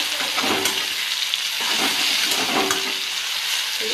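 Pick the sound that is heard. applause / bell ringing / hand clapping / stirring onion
stirring onion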